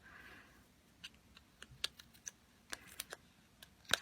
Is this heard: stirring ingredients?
no